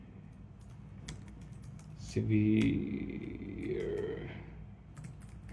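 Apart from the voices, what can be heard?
typing symptoms on a computer keyboard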